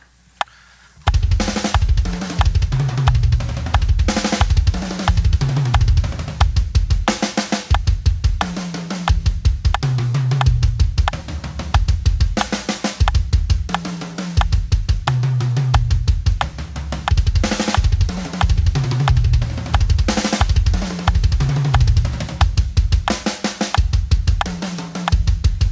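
Fast double bass pedal drum fill played on a kit at half time, dense repeated kick strokes with cymbal and snare hits, loud and close, continuing steadily for the whole stretch with no talking.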